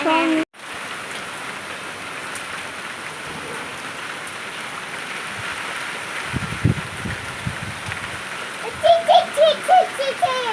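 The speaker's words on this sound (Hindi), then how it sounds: "देखा कितनी बारिश आई" Heavy rain pours steadily onto surfaces outdoors amid greenery, a dense continuous hiss, with a voice and a few brief vocal sounds rising over the downpour near the end.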